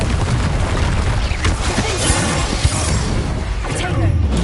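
Confringo spell blasts in Hogwarts Legacy combat against Ashwinders, loud crackling booms and crashes within a dense, noisy mix, with speech heard over the chaos.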